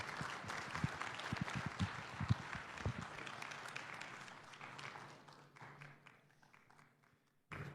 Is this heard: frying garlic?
no